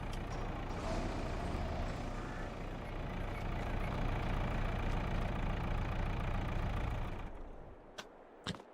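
A truck idles steadily in Farming Simulator 22, a low continuous engine rumble that cuts off near the end, followed by a couple of sharp hissing air brake bursts in quieter surroundings.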